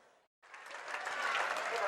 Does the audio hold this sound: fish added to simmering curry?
no